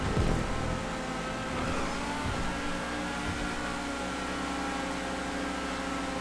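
A car engine in a GTA racing video game, revving and accelerating in a steady loud drone with shifting pitch, no voices over it.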